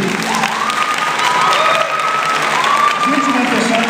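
A large crowd applauds and cheers a São Paulo samba school at a steady, loud level, with whistles and voices mixed into the continuous wash of clapping.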